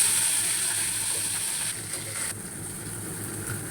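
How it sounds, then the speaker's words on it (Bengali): Fish sizzling in a thin layer of oil in a pan, a steady close crackle and hiss running without pause, slightly softer toward the end, with no talk over it. "তো দিয়ে এখন আমি মাছগুলো ভেজে নিব।"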